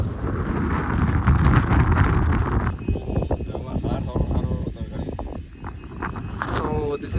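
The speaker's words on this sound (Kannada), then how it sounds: "ಗಾಳಿದ ಫೋರ್ಸ್ಗೂ ಮೊಬೈಲ್ ಪಿರ ಪಿರ ಪೋನುಂಟು" Strong wind buffets a mobile phone microphone during an offroad ride up Gavi Betta, making loud, rumbling gusts that ease off as a person starts talking over the remaining wind noise.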